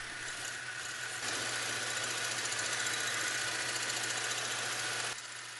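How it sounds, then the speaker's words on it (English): Lathe turning down a quarter-inch grade 8 bolt, a steady, close mechanical whir and hum that rises slightly while cutting and then drops back. "The first step here is to turn it all down to a consistent diameter."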